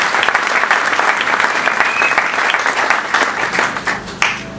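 A church congregation applauds together, a dense, steady wash of clapping that carries through the whole stretch with only small swells and dips.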